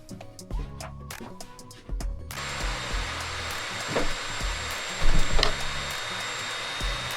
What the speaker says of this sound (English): Let's turn that motor on.